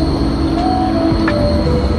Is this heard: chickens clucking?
no